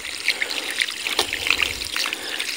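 Water from a ram pump pipe trickling and splashing into a rice paddy, a close, steady babbling dribble with small bright splashes throughout.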